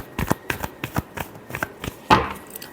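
Tarot cards being shuffled by hand, a string of about nine quick riffling bursts in steady rhythm, close and crisp, ending on one louder flick, with no talking.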